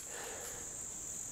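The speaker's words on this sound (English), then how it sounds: "I hear a few crickets chirping here." A steady, high-pitched trill of crickets chirping continuously in the Okefenokee Swamp, faint and even, over soft background hiss.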